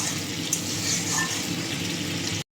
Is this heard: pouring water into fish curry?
yes